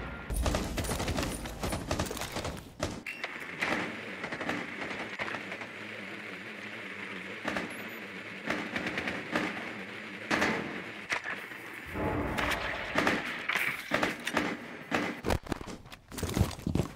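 A teammate fires bursts of automatic gunfire in a tactical shooter game, loud rattling volleys at the start and again near the end with quieter game ambience between them.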